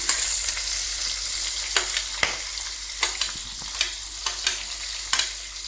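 Cinnamon, cloves, cardamom, a bhut jolokia chilli and onion fry in hot oil with a steady close sizzle, marked by several sharp clinks and scrapes of stirring. No one speaks.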